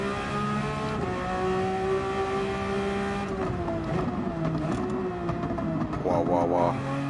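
Race car in Gran Turismo 7, driven with a wheel in VR, accelerating hard on nitrous; a loud, steady engine drone with rising and shifting pitch throughout, with a voice talking over it.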